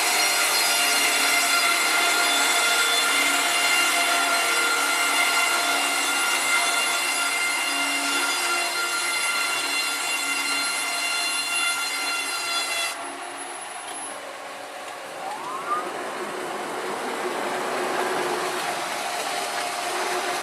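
A chainsaw mill cuts through a big log outdoors with a loud, sustained high-pitched engine whine and the rasp of the chain in wood. Partway through the pitch drops and the saw settles into a lower, steadier drone.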